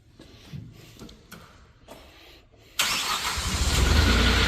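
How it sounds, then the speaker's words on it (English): Engine of a 2016 Moffett M55 truck-mounted forklift starting: a few faint clicks and cranking sounds, then the motor catches abruptly and settles into a loud, steady, rising idle nearby. "What we're going to do is make the engine turn on so you can hear it purr."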